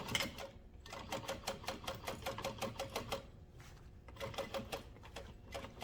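A sewing machine stitches a seam on a tote bag with foam interfacing, a quiet run of rapid, evenly spaced needle clicks that pauses briefly near the middle and then resumes.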